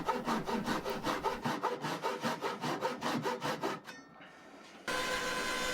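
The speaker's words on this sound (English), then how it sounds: "I cut the angles on the miter saw and then notched each one using a handsaw and my lumberjack tools bandsaw." A handsaw cuts notches into wood framing lumber for a shed build, with steady rhythmic back-and-forth strokes up close, then a pause and a brief stretch of continuous louder rasping; no talking.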